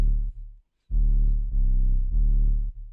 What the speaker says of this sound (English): I made this melody loop for in the intro